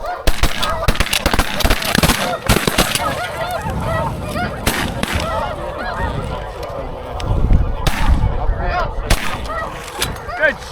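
Geese honk loudly and repeatedly nearby during a duck hunt from a blind, some calls overlapping in a raucous flurry. Sharp gunshot bursts and brief voices break in between the calls.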